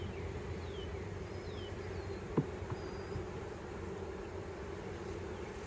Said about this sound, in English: This hive is ready to swarm.